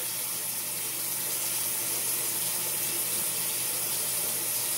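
Water runs steadily from a sink tap during handwashing, a continuous broadband hiss and splash that holds level for the whole stretch with no talking over it.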